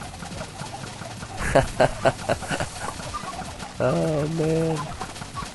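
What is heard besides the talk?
chickens clucking in Minecraft video game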